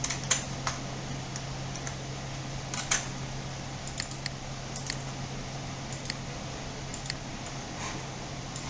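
Typing on a computer keyboard while writing CSS: sparse, crisp key taps spaced irregularly over a steady electrical hum and faint fan noise, with no talking.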